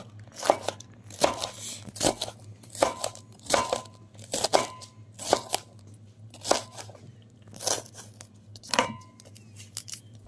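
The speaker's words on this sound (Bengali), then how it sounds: "শিমলা মরিচগুলো কুচিয়ে নেব।" Capsicums being chopped with a knife on a board, a series of about a dozen crisp cutting strokes in an uneven rhythm, near and clear.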